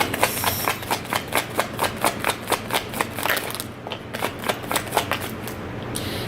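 A deck of tarot cards is shuffled in quick repeated riffles, close and crisp, with a steady rhythm of soft snaps, a brief pause, then more shuffling.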